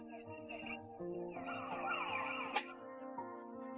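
Sirens wail outside in an animated scene, a steady tonal rise and fall carrying through the whole stretch with a brief sharp burst near the end, layered over busy background noise and no speech.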